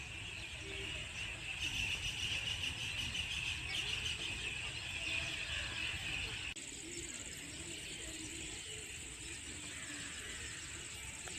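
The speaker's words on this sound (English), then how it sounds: "can you hear the bird sounds and all?" Birds calling steadily at a bird sanctuary, with cooing pigeons or doves and scattered chirps in a continuous outdoor chorus, fairly loud in the first half and slightly quieter after a change partway through.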